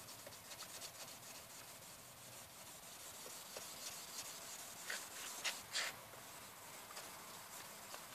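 A plastic car headlight lens is hand-sanded in one direction, a faint, continuous close rubbing and scratching with slightly louder strokes near the end, and no talking.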